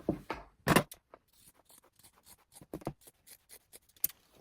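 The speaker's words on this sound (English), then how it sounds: "And I'm just going to do a straight line, both sleeves together. And just cut that through." Fabric shears cutting straight across both shirt sleeves at once, a close series of crisp snips and crunching cloth-cutting strokes, quiet between cuts.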